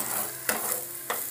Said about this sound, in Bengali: গাজরটা ভাজা হচ্ছে